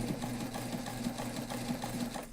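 A sewing machine stitches a backpack in a steady, rapid rhythm. The hum runs unbroken at an even level from start to finish, with no talk over it.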